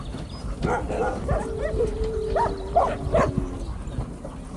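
Working farm dogs barking and yipping outdoors in short, repeated calls at middle distance over steady background noise.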